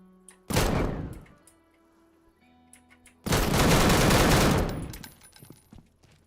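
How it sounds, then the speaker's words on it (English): An automated turret in the game Deadside fires two loud, rapid bursts: a short one, then after a pause a longer sustained stream that fades out. "There's a turret in there as well."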